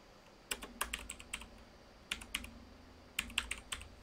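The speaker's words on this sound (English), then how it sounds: "I'm just going to type in a" Fingers tap out quick clusters of keystrokes on a computer keyboard, three short bursts of crisp clicks separated by pauses, close and clear over a quiet room.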